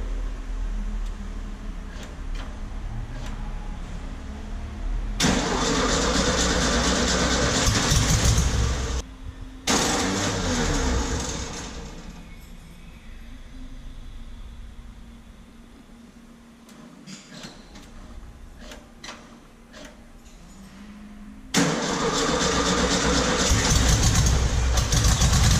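A Volkswagen Beetle engine cranks and turns over in loud repeated bursts, several seconds each, with quieter running between attempts and no talk over it.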